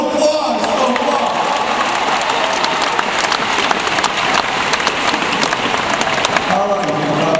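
Loud, sustained applause from an audience at a hypnosis stage show, with dense clapping filling the room steadily throughout and a raised cheer or two under it.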